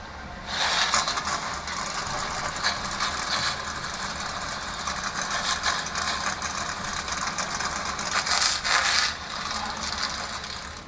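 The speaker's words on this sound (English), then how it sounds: "So there you hear it. Engines are fired." Several NASCAR Truck Series race trucks at Pocono have just fired their engines and idle together as a heavy, rumbling drone with ratchety mechanical clatter, loud and continuous for about eleven seconds.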